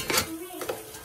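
Spring onion and capsicum being stirred in a pan for macaroni, a brief close scrape and clatter of a spoon against the cookware with a light sizzle under it.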